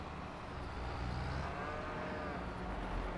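In Farming Simulator 25, cattle moo on a farm, a drawn-out lowing call rising over a steady background drone of game ambience and engine noise, moderately loud with no talk.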